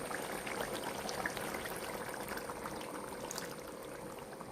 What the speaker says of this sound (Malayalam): ഇനി നമുക്ക് പതുക്കെ തേങ്ങാപ്പാൽ ചേർത്ത് കൊടുക്കാം